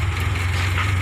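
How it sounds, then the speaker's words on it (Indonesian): Toyota Avanza car engine idling steadily with a deep, even low hum and a faint higher whine, constant and close throughout the short stretch with no talk. "Ini saya bunyikan dulu Avanzanya."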